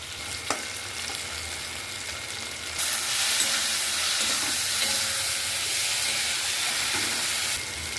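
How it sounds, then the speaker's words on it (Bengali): A cumin spice paste fries and is stirred in a pan, with a steady close sizzle that swells louder midway and carries faint scraping under it, for a prawn and banana-stem ghonto. "মশলাটা আমি খুব ভালো করে কষিয়ে নেব"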